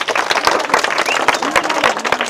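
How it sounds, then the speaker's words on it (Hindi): Loud, dense applause from an audience at a Bhojpuri comedy street magic show, with rapid overlapping claps running steadily through the whole stretch. "एक बार जोरदार ताली"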